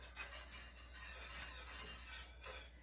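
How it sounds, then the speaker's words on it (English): A whisk stirs a creamy Parmesan sauce in a pan, giving soft, continuous scraping and swishing strokes at low volume with no voices. "At this point, I think I'll use a whisk and I can control it."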